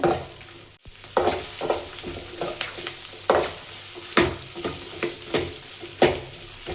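Sliced onion frying in oil as the base of a country-style chicken curry, with a steady sizzle under repeated scraping stirs of a spoon against the pan, close up and with no voices.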